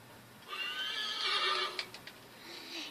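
A horse in the video game Assassin's Creed III lets out a loud, drawn-out whinny, followed by a few sharp hoof clops, close by and with no talking.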